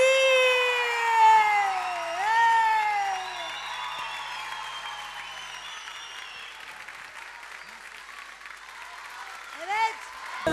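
A TV talk-show studio audience claps as a dense, steady wash, heard beneath a loud, drawn-out voice that rises and falls, and the clapping gradually thins out toward the end.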